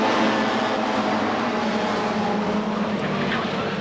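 Rallycross race cars from the 1991 British Rallycross Grand Prix scrabble four or five abreast through Paddock Bend in the main final, a dense, loud, unbroken roar of several engines blending together with no breaks.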